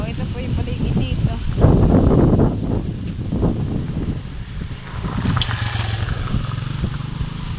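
A habal-habal motorcycle taxi engine rumbles steadily as it rides along, with wind buffeting the microphone and voices talking over the noise.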